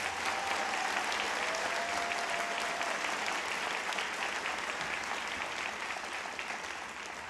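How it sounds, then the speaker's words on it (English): A graduation audience gives students sustained applause, a dense crowd of clapping hands that stays loud and even throughout and fades slightly near the end. "Let's give those students a round of applause."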